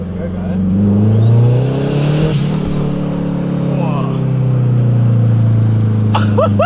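Turbocharged K24-swapped Honda Civic EK engine revving hard to about 4,000 RPM, a loud, sustained drone that climbs and settles, close to the microphone, with excited talk over it near the end.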